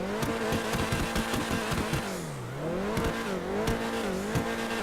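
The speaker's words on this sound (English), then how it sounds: "Great sounding engine." A small supercar's engine in GTA V revs hard and loud, pitch climbing, dipping on a gear change and rising again, with rhythmic engine pulses and a brief tire squeal, close and alone with no talk.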